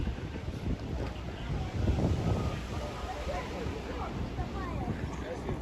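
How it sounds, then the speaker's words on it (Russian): Steady, blustery wind at a beach buffets the microphone with a low rumbling roar, waves faintly in the background, and voices murmuring underneath. "Тут такой ветер."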